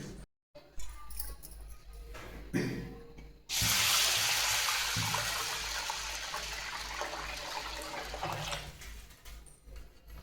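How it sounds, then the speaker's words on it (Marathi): Water is poured onto rinsed sago pearls for making sago papad, a steady, fairly loud gushing rush that begins a few seconds in after brief handling clatter and runs to the end. "आता याच्यामध्ये मी पाणी घालते"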